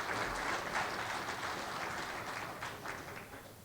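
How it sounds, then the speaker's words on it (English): An audience at a meeting gives a round of applause, a soft, steady wash of clapping that slowly fades over a few seconds. "give these guys a round of applause"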